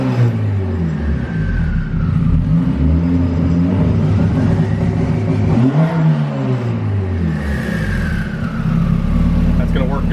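A turbocharged B-series Honda Civic EK hatchback holds revs on launch control, a loud, steady rough engine drone with wavering pitch that dips and climbs again, while someone talks over it.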